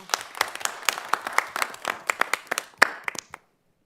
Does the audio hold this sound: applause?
yes